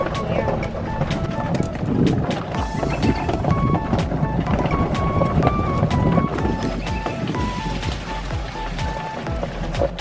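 A golf cart drives along an outdoor path with a loud, continuous rumble of motor, wheels and wind buffeting, broken by clicks and rattles, while children talk now and then.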